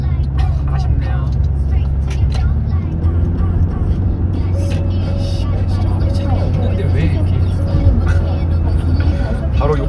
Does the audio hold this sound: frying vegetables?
no